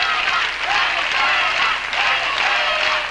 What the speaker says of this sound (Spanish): Las aplaudimos a todas, ¿verdad?